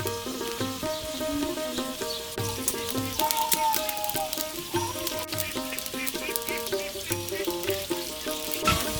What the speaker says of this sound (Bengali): পেঁয়াজ ভাজা সুন্দর একটা গ্রান আসছে